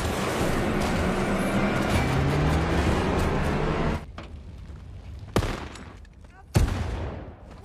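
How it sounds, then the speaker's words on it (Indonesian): Gunfire from a Mad Max film scene: a loud, dense burst of rapid shots rattles for several seconds, then two sharp, isolated bangs ring out against quieter background noise. "mereka mulai menembaki Jack"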